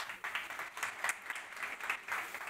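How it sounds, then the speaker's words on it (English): Applause from a conference audience as a presenter walks on stage to discuss a youth trends report, a moderate, even patter of many hands that rises and falls slightly throughout. "Alex, let's give a big round of applause"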